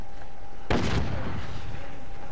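A single heavy blast from a thermite weapon in Call of Duty: Modern Warfare, one sharp boom that fades quickly, loud and alone against low background noise.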